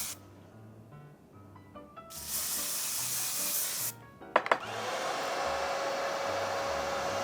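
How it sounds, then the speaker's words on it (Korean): Last Pang hair spray misted onto bangs: short bursts of hissing spray close by, the longest running about two seconds, then a brief click and a steady background whir, with no voices. "라스트팡 스프레이"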